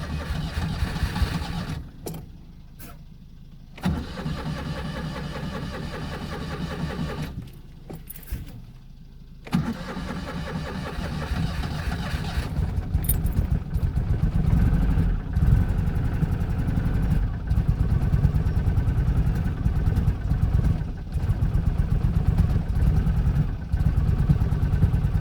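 An engine cranks in a few short attempts separated by abrupt silences, then catches and runs steadily at a loud, rough idle that builds through the rest of the stretch.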